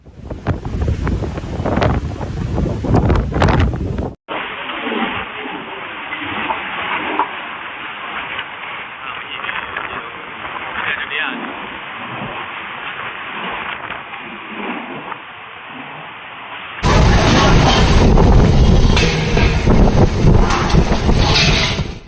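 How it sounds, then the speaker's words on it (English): Typhoon Matmo's winds roaring at landfall on the Wenchang coast of Hainan, loud buffeting gusts battering the microphone, cut between several different sustained blasts with no talk. "the typhoon maintained maximum sustained winds of 45 meters per second"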